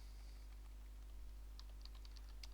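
Quiet keystrokes tap on a computer keyboard, a few light clicks spaced irregularly over a low steady hum, with no one talking.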